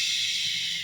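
A reader imitates a bear's snore in one long, breathy, hissing exhale lasting nearly a second. It sounds close and steady, then cuts off abruptly at the end.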